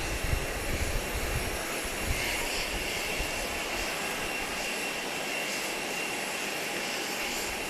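Jet airliner engines roar steadily at Grand Cayman's airport, a broad, loud, continuous rumble and whine with no voices.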